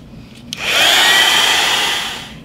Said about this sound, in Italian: Io per fare prima uso un phon.